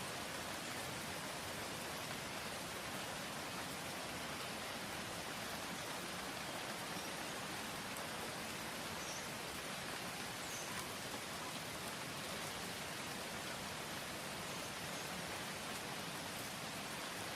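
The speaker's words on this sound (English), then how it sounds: "mixes with the sound of the increasingly falling raindrops." Raindrops fall steadily outdoors near a cabin, a dense, even hiss of rain on surfaces that stays constant and soft throughout, with no voices.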